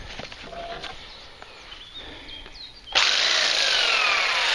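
Sawing through a wooden lid propped on an improvised sawhorse, quiet at first, then a loud, steady, close-up rasping cut that carries on without pause.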